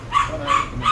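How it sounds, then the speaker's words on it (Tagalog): Dog barking close by, three sharp barks in a steady rhythm, loud and without talk. "Aso!"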